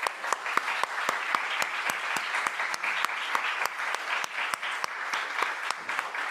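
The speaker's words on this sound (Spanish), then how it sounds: "Un fuerte aplauso." An audience at an international seminar claps, with steady, moderately quiet applause running throughout and a few sharp individual claps standing out from the crowd.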